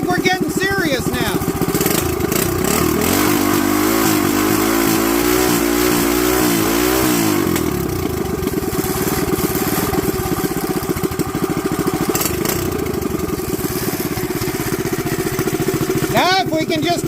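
Big-exhaust drag car engine with a cam upgrade revving hard at a dragstrip, a loud rising and falling rev lasting several seconds, then settling into a rough, lumpy idle with talk over it.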